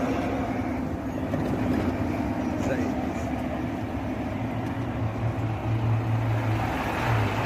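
A train rolls through a road level crossing with a steady low rumble and rattle that builds toward the end, heard from nearby over background noise, with people talking throughout.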